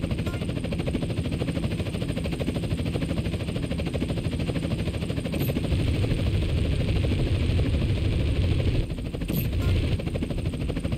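Police helicopter in the video game GTA San Andreas, a steady, droning rotor and engine hum that runs throughout, with a couple of sharp shot-like cracks near the end.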